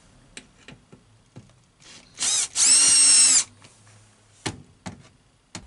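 A power drill backs small screws out of the front face of an old RV stove door in two short bursts of whirring, the second longer and steadier, with light clicks and handling knocks around them.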